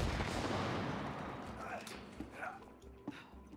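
Gunfire in a co-op video game, heard as a run of booming shots and scattered sharper cracks that fade into the background while people talk over them.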